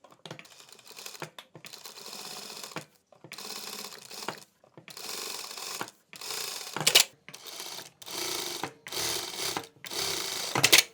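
A sewing machine stitches a hoodie seam in a series of rapid mechanical bursts, each lasting around a second, separated by short pauses, close and steady with no talking.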